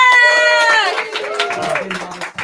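Applause and crowd noise from an auction audience cheering a first-time seller named Jack, a dense patter of clapping that starts after a voice and continues under talk.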